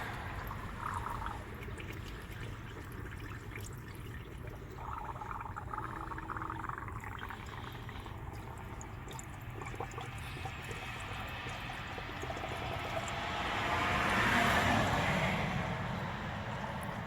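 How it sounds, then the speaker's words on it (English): Water poured into an engine's cooling system on an LS-swapped vehicle, about three quarters of a quart, a steady soft trickle and splash that swells louder near the end, heard alone without talk. "So I'm going to just add 3/4 of a quart of water."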